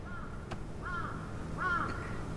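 Crows cawing in a few drawn-out, harsh calls, a short one, then two longer ones, fairly steady in loudness with no talking.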